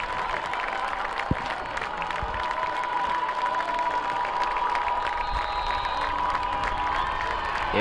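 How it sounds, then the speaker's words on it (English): Home football crowd at a Hillsboro at Haven Wildcats high school game cheers and applauds steadily throughout, a broad, continuous roar with scattered shouts and no clear speech. "Everyone's excited on their feet in the crowd."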